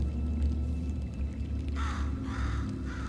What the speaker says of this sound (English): there's a bird on GLaDOS